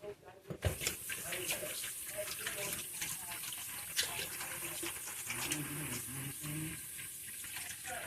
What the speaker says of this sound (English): now I gotta wash my hands because I touched the meat